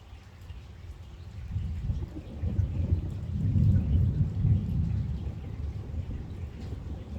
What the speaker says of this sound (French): L'orage n'arrête pas de se régénérer.